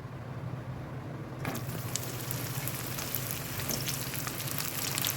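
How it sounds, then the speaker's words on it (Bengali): Pointed gourd (potol) frying in white oil in a wok, a steady dense sizzle that swells louder after the first moment and continues unbroken, close and without talk. "পটলগুলোকে লাল লাল করে ভেজে নেবো"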